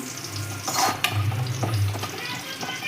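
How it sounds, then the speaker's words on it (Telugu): Cumin seeds and chillies frying in a pan of oil for jeera rice, a steady close sizzle with a brief stirring scrape partway through and a low hum underneath. "జీలకర్ర మిరపకాయలు బాగా వేగితేనే టేస్ట్ బాగుంటుంది"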